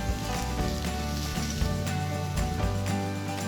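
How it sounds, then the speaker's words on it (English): Sous vide New York steaks searing over lump coal on a Weber Go Anywhere grill give a steady loud sizzle and crackle throughout, with occasional sharper pops and clanks of handling. "roll over the steaks as we sear."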